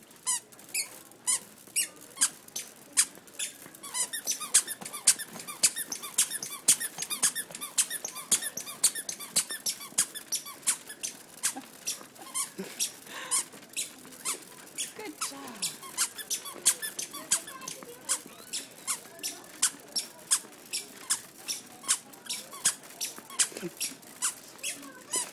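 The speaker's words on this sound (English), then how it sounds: "Are you walking in your squeaky shoes?" Squeaky children's shoes squeak sharply with each step, a rapid, steady series of high chirps running throughout at close range, with no talking.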